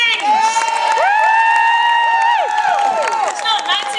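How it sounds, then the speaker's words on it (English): An audience at a drag king show in Salford cheers loudly, with high whoops and shrieks rising and falling over a continuous roar of many voices for the whole stretch. "give me a cheer if you love drag kings"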